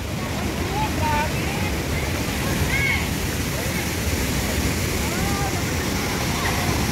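A strong waterfall pours in a steady, loud, broadband roar close by. Scattered voices talk over the rushing water.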